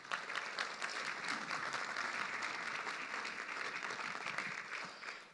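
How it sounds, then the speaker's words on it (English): A chamber luncheon audience gives its sponsors a steady round of applause, many hands clapping in a dense, even wash that continues for several seconds and fades at the end. "So let's give them all a big round of applause."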